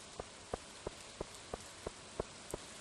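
Night rain in the farming video game Stardew Valley makes a steady soft hiss, with evenly spaced light taps like footsteps running through it.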